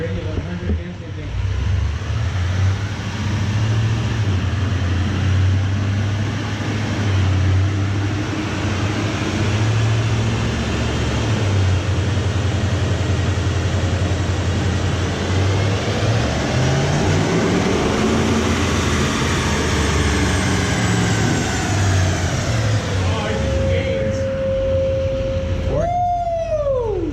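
A GM L5P Duramax diesel pickup roars steadily on a chassis dyno for the whole stretch, one loud continuous engine drone with no break, ending in a brief rising whine.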